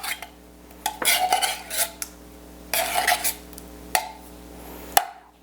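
Cream of mushroom soup from a can being scooped into a bowl with a utensil for a pork chop sauce: scraping and clinking strokes, a few louder knocks against the bowl, close and alone.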